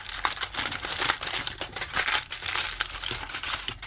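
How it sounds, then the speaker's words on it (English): Aluminium foil crinkles and crunches steadily as it is stuffed into a silver grill, a close, loud, continuous rustling with rhythmic pressing bursts and no talking. "We need to stuff this with foil."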